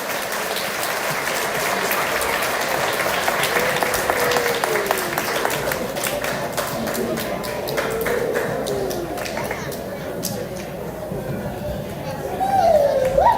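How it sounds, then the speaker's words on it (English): A school crowd claps and cheers for third grade students at an elementary awards ceremony, sustained applause with children's voices and chatter, fairly steady throughout and swelling slightly at the end. "Let's give a round of applause for all those third grade students"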